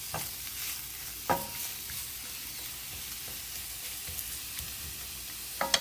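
Spinach is stirred as it wilts in a hot pan to go into stuffed tomatoes, giving a steady close sizzle with soft scraping of the spoon and a few sharper clicks against the pan, and no one talking.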